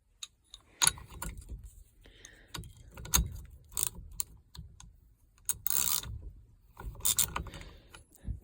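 Metal clicks and ratcheting clatter from a standard wrench working a 13/16 bolt on a 1978 GMC's steering column, sharp close taps in uneven bursts with brief pauses between them.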